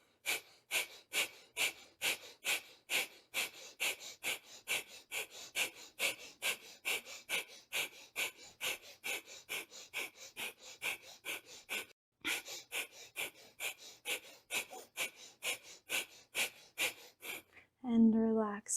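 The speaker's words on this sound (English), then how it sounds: "And one more time, this time 40 breaths." Deep, rapid rhythmic breathing exercise of about forty breaths during a yoga practice, each forceful inhale and exhale evenly paced and close, with one short pause, ending in a larger exhale.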